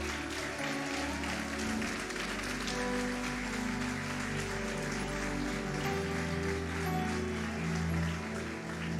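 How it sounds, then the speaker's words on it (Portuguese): A church congregation applauding during a Portuguese-language evangelical service, a dense, sustained patter of clapping over a low background of music, steady for several seconds. "Aplaude a Jesus."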